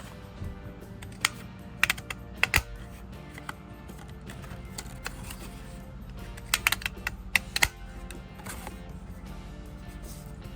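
Several sharp clicks and snaps of a small hand punch cutting a mini stamp shape from stiff watercolor paper, clustered in two bursts over a quiet room tone.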